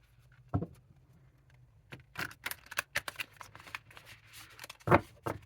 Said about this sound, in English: So that's usually how I shuffle my cards.